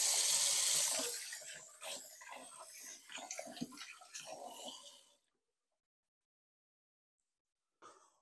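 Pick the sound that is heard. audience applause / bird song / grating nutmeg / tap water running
tap water running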